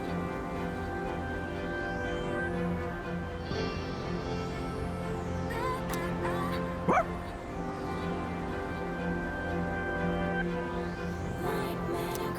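A dog yips and barks briefly in the video game Persona 3 Reload. Short, clear barks and whimpers sit over a steady layer of game music.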